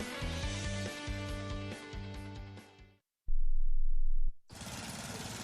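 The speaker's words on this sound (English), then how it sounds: "I'm just mowing the lawn." A lawn mower engine drones for about a second, a loud, steady buzz with a low hum beneath. Music plays before and after it.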